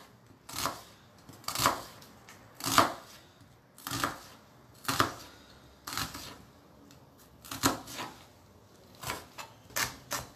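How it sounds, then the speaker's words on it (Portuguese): Onion being chopped with a knife on a board: about a dozen crisp, close strikes in loose groups of one to three, evenly spaced over a quiet background. "Enquanto isso, vamos picando nossa cebola."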